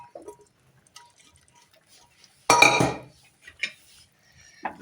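A spoon scrapes and clinks against a pan as cooked chickpeas for chole masala are mixed, with one loud stirring scrape in the middle, a few lighter clinks after it, and soft taps before.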